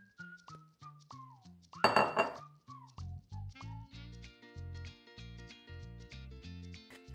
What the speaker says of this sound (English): Going to give this a little mix, and then I am going to mix my salts with my oil.